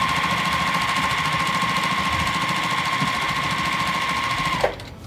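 Sewing machine running a 1/4 inch seam on a table runner block, a steady close continuous whir that stops abruptly near the end.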